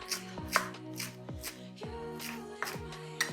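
A knife chops fresh coriander and mint with stems on a board in steady, close, crisp strokes, roughly two cuts per second, with no talking.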